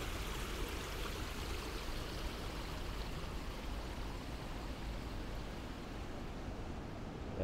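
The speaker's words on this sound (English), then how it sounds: "Nice kind of water feature." An indoor water feature in the Tokyo Midtown shopping mall gives a steady, moderate, even rush of flowing water, continuous throughout with no talk.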